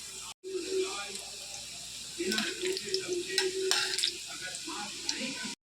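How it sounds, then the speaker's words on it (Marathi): Continuous hissing sizzle of food frying in hot oil in a wok, with occasional crackles and pops and faint utensil movement. "कढईमध्ये तेल टाकलं आहे आता याच्यामध्ये मी तळायला घेते"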